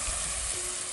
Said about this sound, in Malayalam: അപ്പോൾ സവോളയൊക്കെ ഒന്ന് വഴന്ന് വന്നിട്ടുണ്ട്.